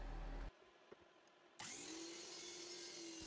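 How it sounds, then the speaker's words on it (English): A miter saw angled at 5 degrees cuts thin sections from a pallet wood half cylinder: a loud burst stops abruptly, a short near-quiet gap follows, then the motor whines up to speed and runs steady and loud. "I set my miter saw to 5 degrees, and now I'm going to slice up this half cylinder into a bunch of sections"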